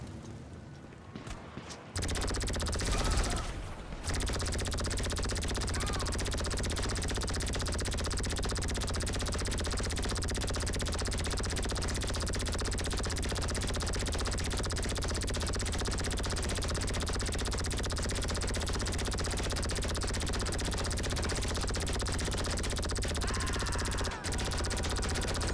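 Sustained automatic gunfire from the Unholy Hellbringer in GTA Online, a dense continuous rattle of rapid shots running loud and steady for nearly the whole stretch after a brief quiet opening, with a short break near the end.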